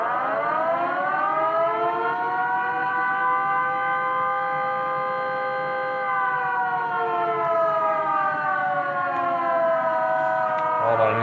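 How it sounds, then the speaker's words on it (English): A long, steady wail from a civil defense siren, holding its pitch and dipping slightly toward the end; loud and continuous. "how would this siren sound?"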